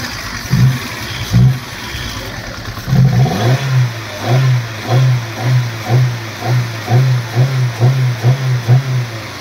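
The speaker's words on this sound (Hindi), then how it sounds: "हुंडई i10 है फ्रेंड्स, और गाड़ी स्टार्ट है। आप देख सकते हो कितना इंजन हिल रहा है।" Hyundai i10 car engine running with heavy vibration from a worn gearbox mount, a near, steady idle that revs up and settles into a rhythmic, pulsing throb of repeated low surges.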